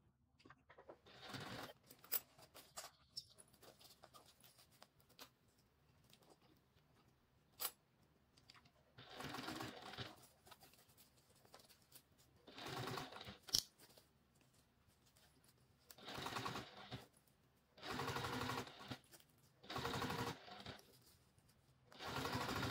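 A sewing machine stitches fabric in several separate bursts of running, each lasting a second or two, with quiet pauses and small clicks of handling between them.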